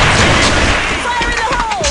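A loud, close explosion rumbles through the whole moment in the shooter AVA, a heavy sustained blast with rolling debris noise and a voice shouting over it.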